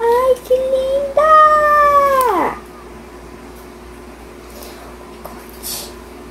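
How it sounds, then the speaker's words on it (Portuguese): Kittens meow in a few drawn-out, rising and falling cries, loud and close, and then fall quiet. "Olha aí os gatinhos juntos a brincar."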